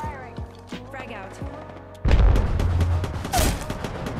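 Apex Legends match with a frag grenade thrown and weapons firing: a loud burst of blasts and shots erupts halfway through, following quieter game sounds and a voice calling out.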